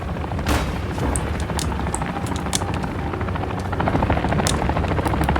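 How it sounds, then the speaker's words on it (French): Helicopters fly overhead in the Warzone 2 video game, a loud continuous rotor roar with sharp bangs and booms over it that swells slightly toward the end. "Deux hélicos."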